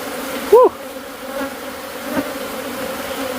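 Killer bees swarm around a huge honey-filled hive, their dense, steady buzzing drone filling the air close by, with a brief louder whine near the start.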